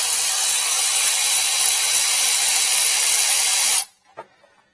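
A Milwaukee M12 Fuel 3/8-inch cordless ratchet spins out a bolt with a loud, steady high-pitched whir that runs for nearly four seconds, then cuts off abruptly, followed by a couple of faint clicks.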